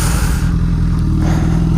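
A Honda CBR1000RR sportbike engine drones steadily while riding on rural gravel roads, a loud, close, continuous low rumble with wind noise and no speech.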